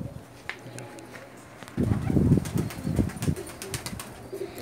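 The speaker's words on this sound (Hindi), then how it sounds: "जो अदनान खान माशाल्लाह, ये भी कबूतरों के उड़ाने के माहिर हैं जी" A flock of racing pigeons bursts into flight with a rush of flapping wings, a loud fluttering flurry over faint background noise, with a few sharp clicks scattered throughout.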